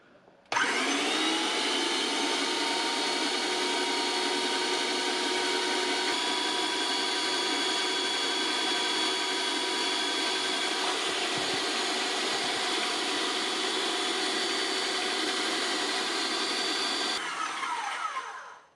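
An InoKraft M1 MaxPrey airless paint sprayer runs while fluid is primed through its drainage tube. The motor hums steadily and loudly, with no break, for about seventeen seconds, then stops and fades out.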